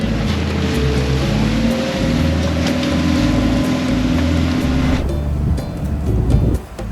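A boat moves slowly across the open ocean, giving a steady engine drone with water rushing and splashing along the hull. Near and loud, it thins out toward the end with a few bumps and no talk.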